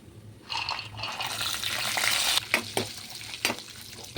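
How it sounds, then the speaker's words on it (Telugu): Tempering spices fry in hot oil for raw mango pulihora. The sizzle swells after a quiet start, then breaks into sharp crackling spurts and pops, close and unaccompanied by talk. "ఆయిల్ హీట్ అయినాక పోపు వేసుకోవాలి"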